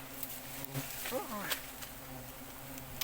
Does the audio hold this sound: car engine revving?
no